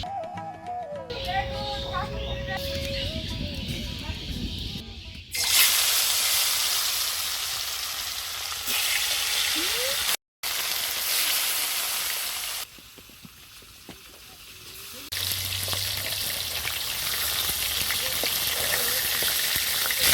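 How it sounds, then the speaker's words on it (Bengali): Fish fries in oil in a village home kitchen, a close, continuous sizzle that swells and fades between louder and quieter passages, with a brief dropout midway. "আমি এবার মাছগুলো ভেজে নেব, যার জন্য তেলটা দিয়ে দেব।"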